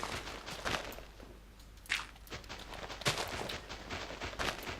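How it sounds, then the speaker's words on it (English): Blocky digging of a fire pit in TerrafirmaCraft, a string of soft, irregular crunchy hits at low volume, spaced unevenly over quiet background. "let me dig out a third fire pit here."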